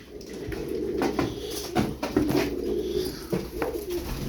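Pigeons cooing up close, soft repeated throaty coos in an uneven rhythm over a steady low background, with no talk.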